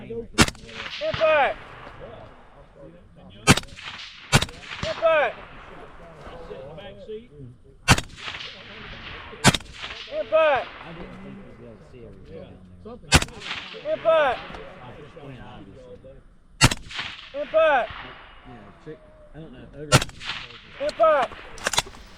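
Sharp, loud rifle shots ring out one at a time at a tactical sniper match, about a dozen cracks spaced a second or several apart, each with a short echo, and quieter movement sounds fill the gaps between them.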